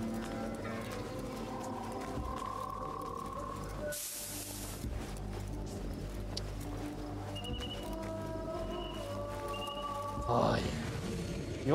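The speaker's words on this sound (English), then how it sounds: "Oh, there's horses." Horse hooves in the video game Assassin's Creed Mirage clip-clop steadily at a moderate distance over a quiet ambient background, with a brief hiss partway through.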